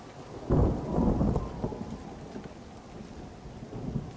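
Rain and thunder from the video game Everybody's Gone to the Rapture: a low rolling thunder rumble swells early, then eases. Steady rain patters on surfaces throughout, with a smaller rumble returning near the end.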